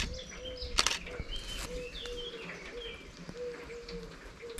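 A pigeon coos softly and repeatedly in rainy outdoor surroundings, with a brief rustle or flap of wings and a few other faint bird chirps around it.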